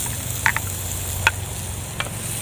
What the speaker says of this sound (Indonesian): Gisa na natin itong bawang,